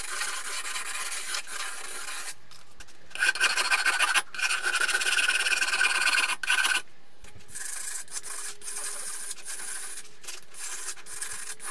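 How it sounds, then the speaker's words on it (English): Cured fiberglass on a homemade high-power water/pyro rocket nose cone being sanded smooth: steady rasping strokes with short pauses between passes, close and fairly loud, with no talking. "After it's all cured, we sand off any sharp edges."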